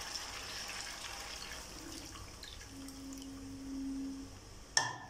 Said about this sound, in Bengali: এবার আমি জল দিয়ে ফাইনালি বসিয়ে দেবো।